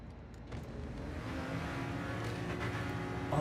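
A car engine in the video game Neverness to Everness revs steadily upward, a smooth growing roar that holds for a few seconds and swells louder at the end, with no voices over it.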